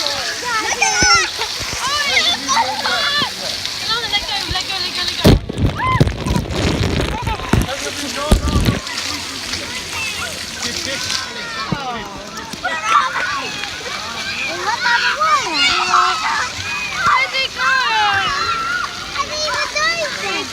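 Water fountain jets splash and slosh continuously, loud and close, with a heavier rushing surge partway through, while children and adults talk excitedly over it.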